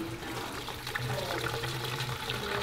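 Potable water pours steadily from a container into a concrete densifier and sealer mix, a continuous soft splashing and gurgling at close range, fairly quiet.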